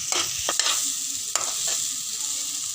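Kashmiri red chili powder and kasuri methi sizzle as they roast in a pan for bhindi, a spoon scraping and clacking a few times over a steady close frying hiss, with no voices.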